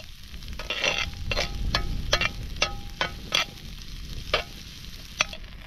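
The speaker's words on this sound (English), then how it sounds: "Chili, onion, garlic is gonna go straight in. Oh, listen to it. I'm gonna brown these up on the fire." Chili, onion and garlic sizzle steadily as they brown in a pan over an open fire, with a series of sharp stirring scrapes and clinks breaking through the continuous hiss; no one speaks.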